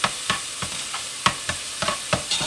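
Garlic, onions and celery frying in a pan for smothered chicken, a steady sizzle broken by a regular series of scraping stirs, close and fairly loud, with no voices.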